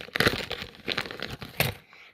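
A plastic capybara packet is torn open in short crinkling, ripping bursts close by, ending abruptly in silence.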